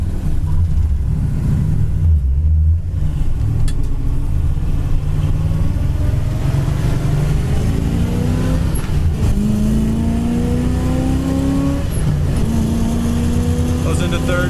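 A 1964 Chevrolet Impala Super Sport drives along while its engine revs up through the gears, with rising tones stepping up at each shift into third and fourth. Someone talks over the steady engine drone.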